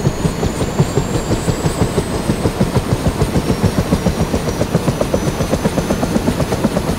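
An AH-1 Cobra attack helicopter flies in the Rising Storm 2 video game, its rotor thumping in a fast, steady, loud rhythm over a continuous engine whine, heard alone.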